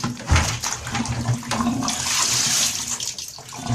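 Dirty wash water from cloth diapers is dumped out of a bucket, giving a close, continuous gushing and splashing rush that fades as it drains.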